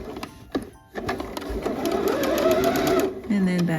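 A sewing machine stitches closed the casing on luxe pajama fabric, its motor whirring in a steady, close run that builds after a brief pause and carries on under a speaking voice.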